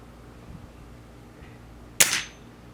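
A single sharp shot from an RWS Diana 34 air rifle, a loud crack with a brief decaying tail, standing out alone against quiet room background.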